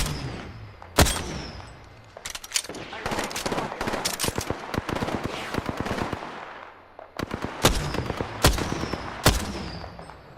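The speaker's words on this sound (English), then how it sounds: "The enemies are shooting at me." Rapid automatic gunfire from enemy shooters in a combat video game, crackling in dense bursts with sharp single shots standing out, loud and close, continuing for several seconds with brief lulls.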